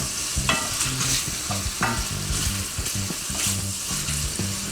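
Bacon frying in a pan, a constant close sizzle with repeated scraping and stirring strokes in an irregular rhythm, no talking.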